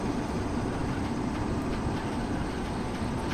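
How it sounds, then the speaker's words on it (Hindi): Steady rolling rumble of a passenger express train on track in Train Simulator (Railworks), the wheel-and-rail noise continuous and loud throughout with no talk. "ओहो track sound guys, track sound ज़बरदस्त"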